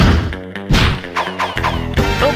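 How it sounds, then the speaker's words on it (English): A loud comic single bat wing flapping effect from the PS1 game You Don't Know Jack plays as a short burst of punchy, cartoonish tonal thwacks and swooshes that rise and fall over about two seconds. "Here's the sound of one bat wing flapping."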